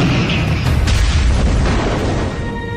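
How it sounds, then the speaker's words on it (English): A tank shell explodes against a Syrian tank in a tank battle on the Golan Heights, a loud, sustained rumbling boom that fills the whole short moment with dense low-end roar and crackle. "he launches a shell, and the Syrian tank lights up"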